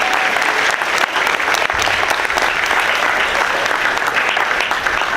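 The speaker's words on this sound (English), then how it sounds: "Give them a big round of applause." Loud, dense applause from a crowd at a school wildcat statue dedication ceremony, continuous and steady throughout with faint voices mixed in.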